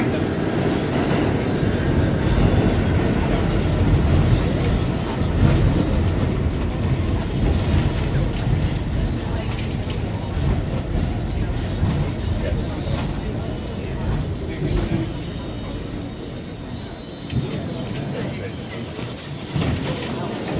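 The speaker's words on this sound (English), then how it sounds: "This is a Bklyn bound F train to Coney Island." A Brooklyn-bound R46 F subway train to Coney Island runs with a loud, continuous rumble and roar of wheels and car noise. Voices and announcements blend into the din.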